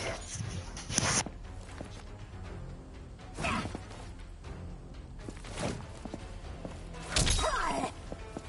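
A dog lets out four separate loud, sharp barks or yelps, spaced a couple of seconds apart, over a quiet indoor background.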